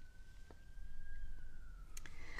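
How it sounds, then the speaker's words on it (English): Emergency vehicle siren wailing outdoors at a distance, a faint steady tone drifting slowly in pitch over low background rumble, with no talk. "I don't know if you can hear the sirens"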